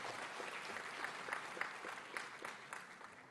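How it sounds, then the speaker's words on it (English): Audience applause fills a large hall at a university convocation. Steady, fairly distant clapping from many people carries on evenly throughout. "Give a big round of applause."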